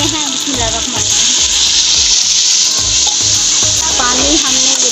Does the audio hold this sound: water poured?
yes